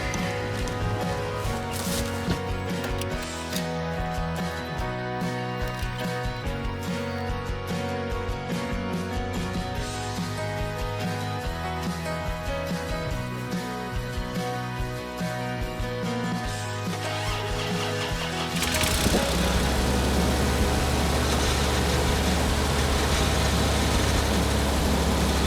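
An old 1988 Toyota FJ62 Land Cruiser engine runs with a steady, even rumble at moderate volume, shifting to a rougher, lower tone near the end, with no one talking.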